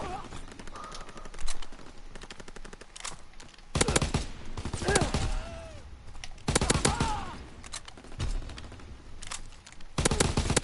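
Rapid machine pistol bursts rattle in a Star Wars battle game with droids and Wookiees, several loud clusters of shots breaking through a busy backdrop of game effects and a few voice-like sweeps.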